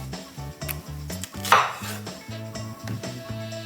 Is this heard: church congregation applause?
no